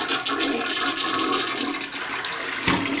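A 2007 Kohler Wellworth toilet flushing close up: a steady rushing gush of water for a few seconds, ending with a sharp gurgling surge as the bowl drains.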